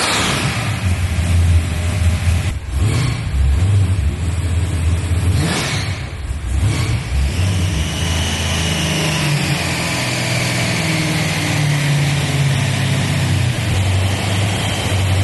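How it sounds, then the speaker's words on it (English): A modified Dodge Charger from Fast & Furious revving loudly and continuously, its engine running choppy with brief dropouts and stumbles around misfires, the tone rising and holding near the end. "you can even see how choppy this is every time it misfires"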